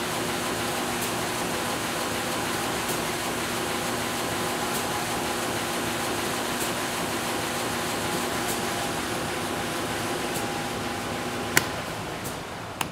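A C.B. Levigatrici three-head 52-inch calibrating widebelt sander running at low speed on a Delta-Y soft start, giving a steady, continuous mechanical hum and whoosh that holds even throughout, with one sharp click near the end.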